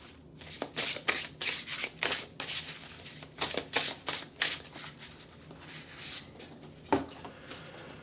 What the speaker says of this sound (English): We're going to go ahead and shuffle and throw just one card.